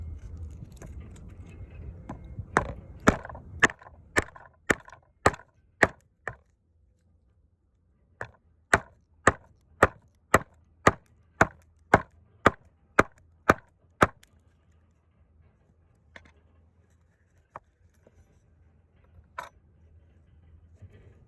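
A palm and needle pound a rope whipping through with sharp wooden taps, about two dozen evenly spaced knocks in quick runs with a pause midway, then a few scattered light taps, close and alone.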